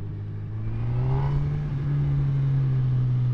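A 2018 Honda CB1000R motorcycle pulls hard in second gear, its engine note climbing in a smooth, rising whine that grows steadily louder, heard close up with no talking.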